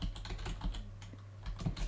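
Rapid keystrokes on a computer keyboard during a genealogy records search at a public library, with irregular bursts of clicking over a steady low electrical hum.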